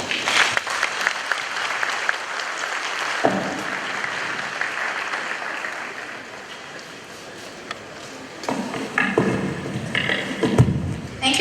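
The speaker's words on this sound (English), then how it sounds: "Please, another round of applause for him." Audience at a Supreme Court 150th anniversary forum applauds, loud dense clapping that thins and fades toward the middle, then swells again with a few sharp thumps near the end.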